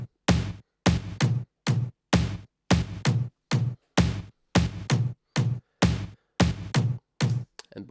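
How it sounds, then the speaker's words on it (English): A pair of electronic toms tuned to the track's root key, punchy low drum hits falling in a steady repeating pattern of doubled strikes, loud and close with nothing else playing. "I have a couple of toms throughout the track"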